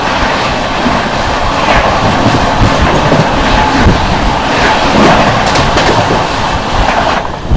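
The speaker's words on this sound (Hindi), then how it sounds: "चलिए दोस्तों, सामने से आ रही है न्यू दिल्ली बनारस शिव गंगा सुपरफास्ट।" The New Delhi–Banaras Shiv Ganga Superfast Express passes on the crossing track close by, a loud continuous rumble with rhythmic wheel clatter and brief squeals that lasts throughout.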